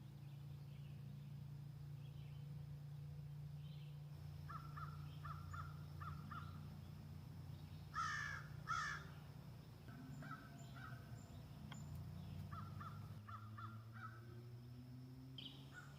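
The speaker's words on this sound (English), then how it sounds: "The birds are chirping." Crows caw in short repeated bursts at an overnight campsite in the early morning, distant and fairly faint over a steady low hum, with a louder squawk partway through.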